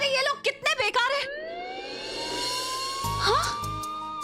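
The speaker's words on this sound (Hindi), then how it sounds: "ये सायरन तो मेरे फोन में बज रहा था।" A police siren ringing from a phone, a rising wail that holds a steady tone after brief overlapping speech at the start, fairly loud and close.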